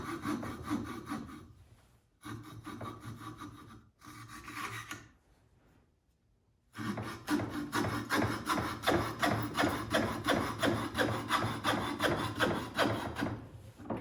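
Rough carving of a wooden mallard drake decoy head near the bill, heard as steady rasping, sawing-like strokes in short bursts with pauses, then a long continuous run of close, rhythmic scraping.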